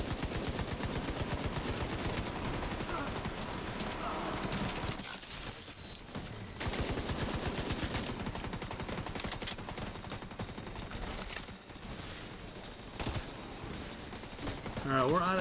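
Gunfire in The Division 2 game, dense rapid bursts of shots filling much of the stretch, pausing briefly mid-way before resuming, loud and close with other game noise mixed in.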